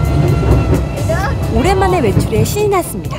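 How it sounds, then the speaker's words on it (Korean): A European-style tourist train rolls through Jeju city with a steady low rumble and clatter, while a voice talks over it throughout. "유럽식 관광열차는 칠레에서도 타봤기 때문에"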